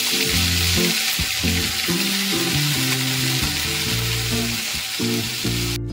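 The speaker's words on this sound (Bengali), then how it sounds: "আমি একটু ভাজা ভাজা করে নিচ্ছি।" Ground ginger, green chilli and whole cumin paste fries in a pan for a stuffed aloo dum, giving a loud, continuous close sizzle broken by the scrape of stirring.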